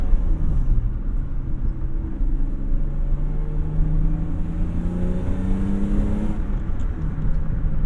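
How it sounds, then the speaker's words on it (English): A BMW S52 inline-six swapped into a lightly insulated E30 gives a loud, continuous induction roar, climbing and falling in pitch as it revs under way, with steady road rumble and no voices. "We have the S52, which already has a very good induction sound, but now we have it in a car that is a lot less insulated"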